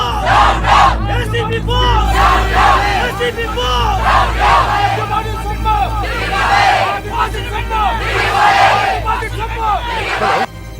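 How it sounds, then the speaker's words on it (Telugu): An angry crowd chants and shouts slogans in unison, a loud, dense mass of voices that swells and surges continuously throughout. "వెనకాల జనం బోస్ డౌన్ డౌన్ నన్ను అరుస్తూ ఇటే వస్తారనా?"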